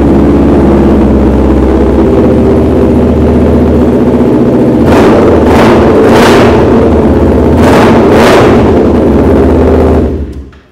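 A 2022 Kawasaki Ninja 400 with an SC Project aftermarket exhaust idles loudly, then revs sharply four or five times in quick bursts, each blip rising and falling before the engine cuts off near the end.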